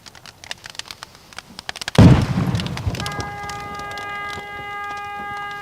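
A propane tank blows up beneath a stream of poured molten metal, a single heavy boom that strikes suddenly after scattered crackling and then rolls into a long rumbling tail with a steady high tone ringing over it.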